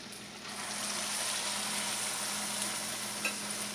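Falafel frying in oil, a steady dense sizzle and crackle that holds at an even level throughout, fairly close and loud, with one small pop near the end.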